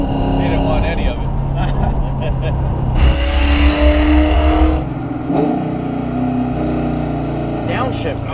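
A 1995 Ford Mustang Cobra engine idles with a steady, rumbling low drone and a few uneven surges, while people talk over it throughout.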